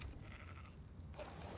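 A sheep bleats in the video game ARK: Survival Evolved on the Crystal Isles map, one faint bleat followed by a quieter stretch of low game ambience.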